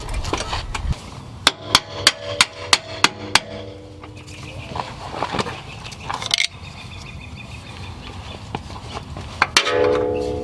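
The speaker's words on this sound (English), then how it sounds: "grab a hammer and hit these 2 bolts out here" Sharp metallic hammer strikes knock bolts out of the strut assembly on a 2000-2006 Mercedes S-Class, ringing out in a steady run of about eight blows, followed by a few scattered clanks and scrapes, close and loud.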